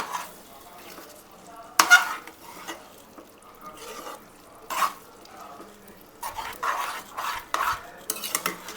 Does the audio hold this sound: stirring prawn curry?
yes